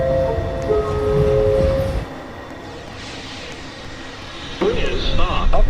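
A New York subway train at the Beverly Road station platform during evening rush hour rumbles and squeals close by, with a recorded announcement voice over the noise.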